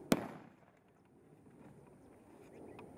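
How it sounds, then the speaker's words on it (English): A single sharp firecracker bang near the start, followed by a fading rumble and quiet outdoor ambience. "Like lighting up firecrackers, the sound of which startles them."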